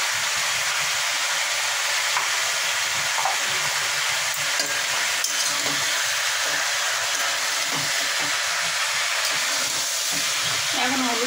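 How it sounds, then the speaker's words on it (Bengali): Turmeric and salt being stirred into food frying in a pan, a steady loud sizzle running throughout with faint scraping of the spoon. "এখন হলুদ লবণ দিয়ে ভালো করে মিশিয়ে নিচ্ছি।"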